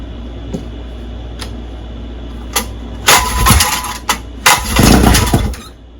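Close, loud popping from a 1958 Johnson 7.5 HP outboard motor being started on starter spray: a few faint clicks, then two short sputtering bursts of firing a second apart, with no voices.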